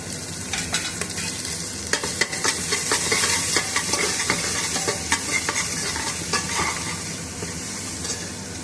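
Ginger, garlic and green chillies fry in oil inside an open pressure cooker, a loud crackling sizzle with steam hiss and frequent spatula scrapes and taps against the metal, close up.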